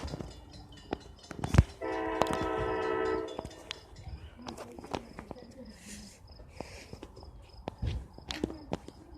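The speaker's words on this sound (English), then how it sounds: "Now here comes the train." Train at Raritan sounding a bright horn blast of about a second and a half amid nearby footsteps and clatter, followed by quieter rumbling and scattered knocks, fairly faint overall.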